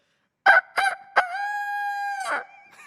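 A man vocally imitates a rooster crowing, starting with three short clipped bursts and ending in one long, sustained, wavering call, loud and close with nothing else underneath.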